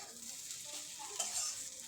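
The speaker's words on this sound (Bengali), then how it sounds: "কিছুক্ষণ ভেজে নিলেই আমার মাছের ডিমের ঝুড়ি ভাজা একেবারে রেডি" Fish roe jhuri fries in a pan with a soft, steady sizzle and faint stirring scrapes, quiet and close.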